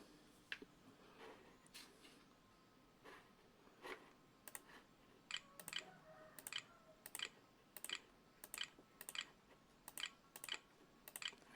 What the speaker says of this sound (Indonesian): kita masukkan password menggunakan keyboard internal